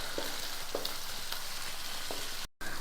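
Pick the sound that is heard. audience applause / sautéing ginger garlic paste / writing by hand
sautéing ginger garlic paste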